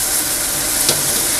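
Food sizzles and crackles steadily in a granite wok, a continuous close frying hiss with one brief sharper spatter partway through and no voices.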